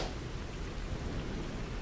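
Steady rain falling as a dense, even hiss with no break, close and fairly loud, and no voices.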